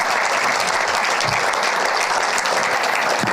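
An audience at a makeathon's final pitch event claps continuously, a dense, loud, even applause that fills the room throughout.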